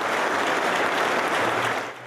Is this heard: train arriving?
no